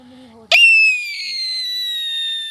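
A person's voice imitating a fireworks rocket: a brief low hum, then a sharp burst into a long high whistle that slowly falls in pitch for about two seconds.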